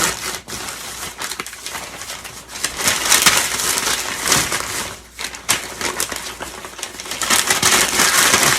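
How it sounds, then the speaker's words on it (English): Newspaper being crumpled by hand and stuffed into a shipping box as packing filler, a steady run of close, crackly rustling and crushing with brief pauses. "Crumple that stuff up. Just get it in there."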